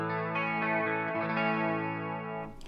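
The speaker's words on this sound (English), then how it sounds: "this one just has some chorus added" An Enya Inspire smart guitar is strummed through its clean channel with chorus added, a sustained, shimmering chord ringing richly before it is cut off near the end.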